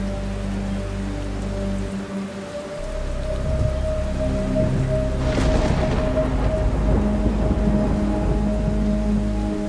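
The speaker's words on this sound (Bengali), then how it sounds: "দুদিন ধরে অনবরত বৃষ্টি হয়ে চলেছে" Heavy cartoon-style rain pours down steadily and loudly throughout, a dense hiss over a low rumble with no voices, swelling slightly midway.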